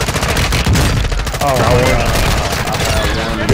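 Rapid automatic gunfire in the video game Call of Duty: Modern Warfare II, loud dense bursts that continue almost without pause, with players talking over the shooting.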